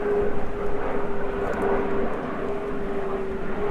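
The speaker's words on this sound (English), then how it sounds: "and another plane flies over." A plane passes overhead outdoors, a steady broad roar with a faint sustained drone holding level through the whole stretch under gusty wind noise, fairly loud and continuous.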